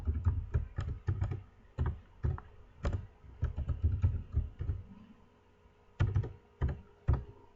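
Keys clacking on a computer keyboard as a new password is typed, a run of close, uneven taps in quick bursts with short pauses, no voices.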